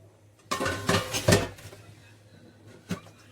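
Dishes, pots and utensils clatter as they are handled for washing at home, with a dense burst of clinks and knocks early on, a quieter stretch, then one more sharp clank near the end.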